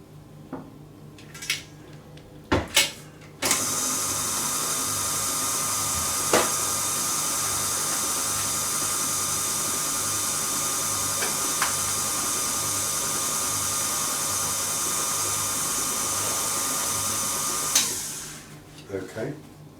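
Electric mixer whirring steadily through lemon and raspberry cheesecake filling on a kitchen counter, a continuous buzzing drone running most of the time after a few clatters, then cutting off near the end.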